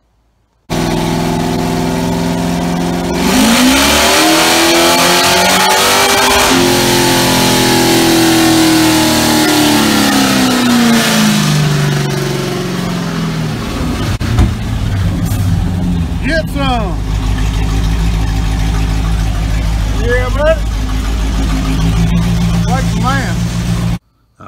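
A 1988 Ford Mustang with an AOD automatic revs hard on a chassis dyno, engine note climbing steadily through a long loud pull, then dropping to a lower drone and settling near the end.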